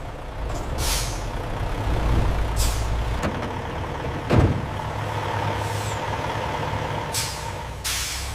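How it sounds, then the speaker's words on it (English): Delivery trucks leaving a potato chip factory, with a low rumbling engine bed broken by several sharp hissing air-brake releases, one louder burst near the middle. "Trucks depart the facility, ready for nationwide distribution."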